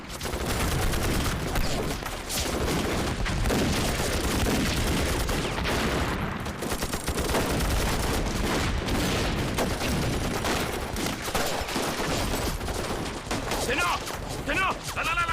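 Rifle fire in a wartime battle: dense, continuous volleys of gunshots crackle and boom loudly throughout, overlapping with no pause, with voices faintly mixed in.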